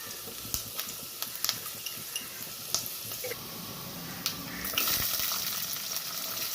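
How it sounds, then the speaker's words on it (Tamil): Fenugreek seeds and vadagam fry in hot oil for a fish curry, giving a soft continuous sizzle with scattered crackles and clicks that swells louder near the end. "எண்ணெய் காஞ்சது வெந்தயம் சேர்த்துக்கிறோம். அதன் பிறகு வடகம் சேர்த்துக்கிறோம்."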